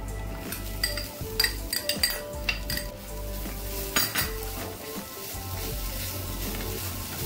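Grated coconut sautéing in a pan for coconut chutney, with clinks and scrapes of a metal spoon against the pan over a soft steady sizzle, close up, no speech.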